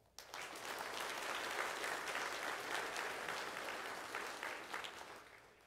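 Sustained applause for graduates at a home-school graduation during a church morning service, a dense, even wash of many hands clapping, fairly faint and steady throughout.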